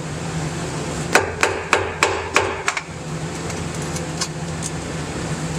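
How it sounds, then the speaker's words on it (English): Sharp metal-on-metal hammer blows strike a chisel while knocking out a Jeep transfer case slip yoke seal, about seven quick, loud raps in a row over a steady low hum, then a couple of fainter taps. "We have basically like a chisel and a hammer, and we're going to start knocking this out."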